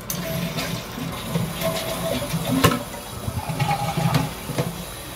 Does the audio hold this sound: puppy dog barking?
no